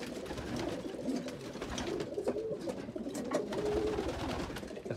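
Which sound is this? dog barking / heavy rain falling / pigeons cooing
pigeons cooing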